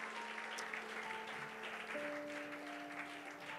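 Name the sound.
applause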